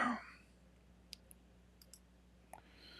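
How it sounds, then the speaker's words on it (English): Sparse keyboard typing, a handful of quiet, separate key clicks spaced over a few seconds in a hushed room, with a brief burst of noise at the start. "I'm typing in Arabic."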